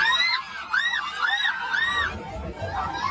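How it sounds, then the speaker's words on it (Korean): Panicked screams and shouting rise from a packed subway train full of concert-goers, with repeated high wailing cries layered over crowd babble and commotion throughout. "그런데 갑자기 여성이 소리를 지르고"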